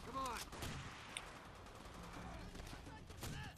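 Gunfire in Call of Duty: World at War, rifle shots including an M1 Garand cracking in a dense, continuous exchange, with sharp reports layered over steady battle noise and occasional distant booms.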